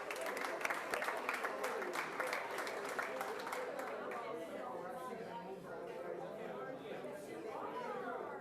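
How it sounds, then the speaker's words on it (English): Applause at a school district board meeting honoring several people, clapping mixed with crowd chatter and voices throughout, moderately loud and steady in a large room. "Let's give them all a round of applause."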